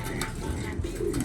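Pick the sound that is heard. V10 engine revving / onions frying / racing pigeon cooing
racing pigeon cooing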